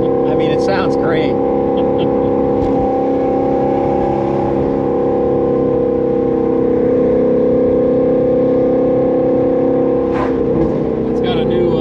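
A 2019 Shelby GT350 V8 of 600 hp that revs to 9000 rpm, with a new base map tune, holds a loud, steady engine drone throughout, its pitch shifting slightly, close by and alone with no talk.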